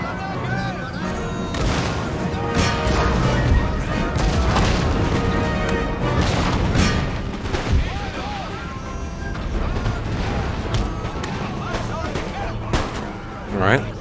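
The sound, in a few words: cannon and musket fire in Empire Total War video game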